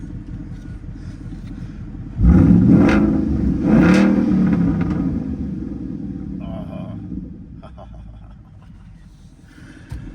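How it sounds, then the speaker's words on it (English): Boss 302 Mustang V8 running close by, a low rumble that swells sharply as it is revved, then settles back into a smooth, steady idle that fades slightly. "Looks like she's heated up now, and temperature's coming up. Still idling very smooth."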